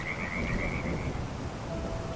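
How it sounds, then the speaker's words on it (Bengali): Frogs croak through a rainy night in a muddy village, a faint continuous chorus with one thin trilling call over a soft wash of rain. "চারিদিকে ব্যাঙের ডাক"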